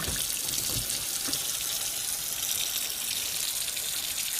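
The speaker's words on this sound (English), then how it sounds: "you have to actually fill the sink up, just enough to cover up that ring" Tap water runs steadily into a kitchen sink to fill it, a continuous close hiss and gush with no pauses or talk.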